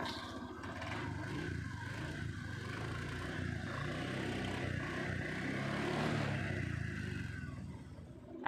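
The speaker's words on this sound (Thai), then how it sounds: "นี่นะเครื่องติดแล้วนะครับ" A Honda Click 125i scooter engine idles steadily, a continuous close buzzing drone with no pauses, holding an even level throughout.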